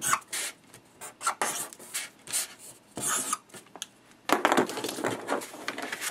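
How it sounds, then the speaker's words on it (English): A marker writes numbers one through six on a paper strip, giving a series of short, close scratchy strokes with brief pauses between them and no talking. "I'm going to use a marker just so you can see more clearly in my sample."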